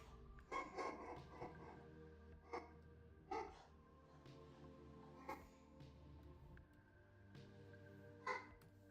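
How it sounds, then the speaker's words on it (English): A dog barks and yips in short bursts, several separate calls spread across the stretch at moderate distance in an indoor room, with a steady low hum underneath. "That's my dog."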